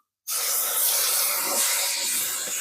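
Water hits a hot pan of cooking mushrooms and snail meat with a sudden loud hiss that begins abruptly after a brief silence and stays steady and close.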